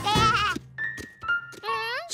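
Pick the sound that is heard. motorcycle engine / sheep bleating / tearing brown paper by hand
sheep bleating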